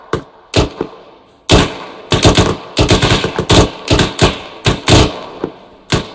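Rifles and machine guns fire in the Arma 3 military simulation during rate-of-fire training, with loud, close bursts and single shots that start and stop in quick, uneven clusters and come one after another with short pauses between.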